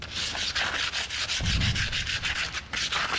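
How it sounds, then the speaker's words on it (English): Rough wooden mantle being sanded down by hand to knock off splinters and pointy edges, a steady rhythmic scratchy rubbing with repeated back-and-forth strokes, close and fairly loud throughout. "I was just working at sanding down this mantle a little bit."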